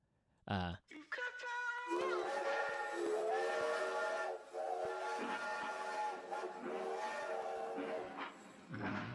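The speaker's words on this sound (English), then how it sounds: "I also wanted to add this freaking train stuff" A train whistle blows over a musical backing, its sustained tones rising and layering, with speech mixed in.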